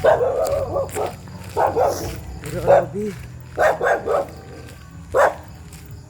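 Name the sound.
dog barking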